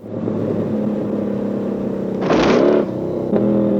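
A film car-chase engine sound, enhanced in post-production: a car engine drones steadily, then surges into a loud rev before settling back to a rumbling idle.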